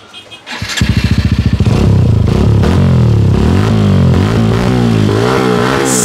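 A Hero Xtreme 125R motorcycle fitted with an R1M long exhaust starts with a quick rhythmic cranking, then settles into a loud, close idle and blips of throttle with a deep, throaty rasp; no one talks over it.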